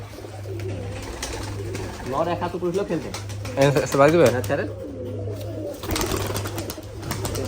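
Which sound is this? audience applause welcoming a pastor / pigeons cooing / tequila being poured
pigeons cooing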